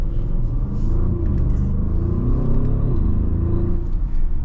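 A deep, loud V8 engine rumble from an Audi SQ8 in dynamic mode, held steady, with the throaty drone of the exhaust running continuously and no talk.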